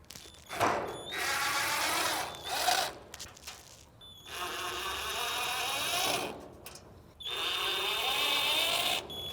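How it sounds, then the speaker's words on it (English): A power drill backs out screws from the top and bottom corners of a Camp Chef Gridiron 36 grill faceplate, running in three close whirring bursts separated by short pauses and handling clicks. "we're going to remove these 4 little screws across the top and then the 2 larger ones in the bottom corners"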